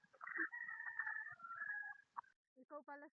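A chicken crows on a farm in Talisay, Batangas: one long, faint crow, then a short second call, with quiet gaps between.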